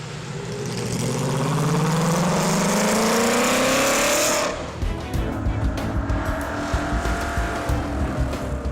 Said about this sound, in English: The sound of the 8-cylinder engine, incomparable.